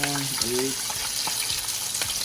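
Chicken wings deep-frying at 375 degrees in a fryer basket, ten wings to a basket, give a steady close bubbling sizzle with brief splashy crackles and a low voice underneath.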